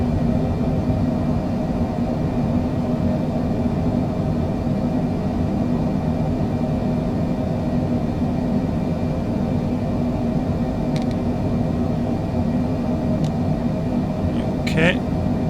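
A Citation Longitude business jet in a flight simulator rolls down the runway for takeoff and climbs out, a steady low engine roar and rumble running throughout with a couple of faint clicks near the end.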